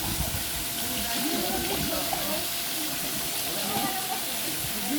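Water pours continuously like a fountain or shower at a resort pool, a dense steady hiss with people talking underneath.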